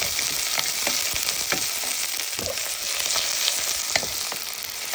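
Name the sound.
garlic, onion and ginger frying in a pan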